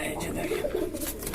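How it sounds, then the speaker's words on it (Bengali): A Kaldom pigeon at a fancy pigeon farm coos in low, rolling throaty notes, close but partly masked by a voice talking over it. "কালদম কবুতর ভাই।"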